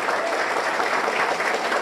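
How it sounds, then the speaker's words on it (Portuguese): A crowd at a Brazilian government event applauds, producing a dense, steady wash of clapping at a fairly close, even level. "Aqui eu peço aqui uma salva de palmas."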